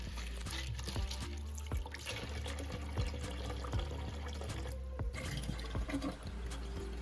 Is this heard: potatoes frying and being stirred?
no